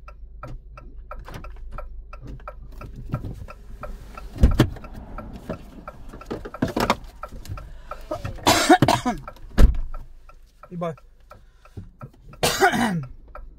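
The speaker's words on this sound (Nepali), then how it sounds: "कस्तो खोकी लाग्यो क्या" A few sharp, close coughs and throat-clearing bursts, the loudest near the middle and end, over a quiet background with a soft regular ticking.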